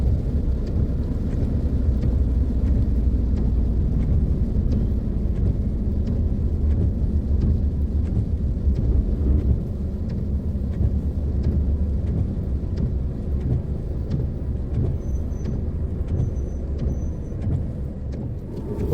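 Steady heavy rain roars over low rumbling traffic at the Som Poi Noi intersection in Thailand, a dense continuous wash of noise with no voices, constant and fairly loud throughout.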